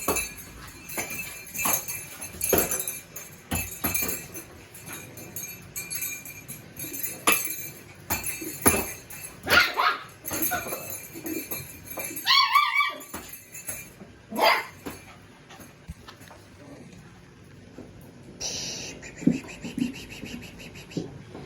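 Golden Doodle puppies in a litter give scattered short barks, yips and whimpers, fairly close and irregular, with clinking sounds and quiet gaps between bursts.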